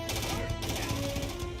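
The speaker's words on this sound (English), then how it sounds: "Firing a ballistic weapon in zero-G will actually push you backwards." A ballistic weapon fires in zero gravity in Starfield, a quick string of gunshot bursts over a low droning game soundtrack, with a voice faintly present beneath.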